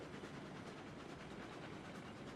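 Freight train rolling along in the Railroads Online game with sawmill loads, a steady dense rumble and continuous clatter of cars, close and loud throughout.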